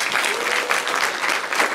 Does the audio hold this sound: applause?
yes